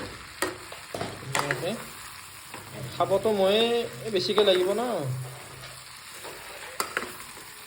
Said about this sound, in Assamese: এয়া কালাৰ আহিবৰ কাৰণে ৰেড চিলি দিছে অলপ ভাজি দিছোঁ